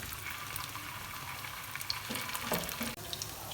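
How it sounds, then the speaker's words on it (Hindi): Potato kababs shallow-fry in a little oil in a grill pan over medium-low flame, giving a soft, steady sizzle with faint crackles and a couple of clinks near the end, close up and without talk. "यहाँ ग्रिल पैन में मैंने लिया थोड़ा सा ऑयल, शैलो फ्राई इनको करेंगे।"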